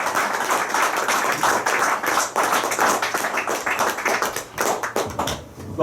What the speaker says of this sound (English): I'm going to start off the round of applause.